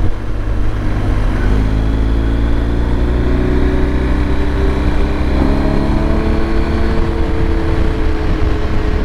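A 2023 BMW R 1250 GS Adventure motorcycle engine rumbles steadily with a deep exhaust note, loud and close, holding a constant throttle throughout.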